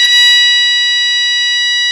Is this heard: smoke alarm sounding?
yes